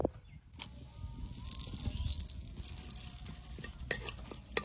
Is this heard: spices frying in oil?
yes